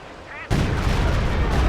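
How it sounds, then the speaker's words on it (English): Heavy artillery shells land in Company of Heroes 2, and after a short quiet moment a loud, dense barrage of booming impacts and rumble breaks in and keeps pounding close by. "You can see heavy artillery is going to start landing around us here."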